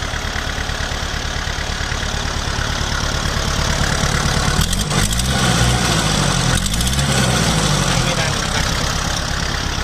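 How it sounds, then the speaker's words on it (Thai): A used Kubota L4508 tractor, a 2009 model, runs its diesel engine at a steady idle close up, a loud even chugging throughout with two short bursts of revving or clatter midway and no audible talking. "เปิดเครื่องยนต์รอนะครับ"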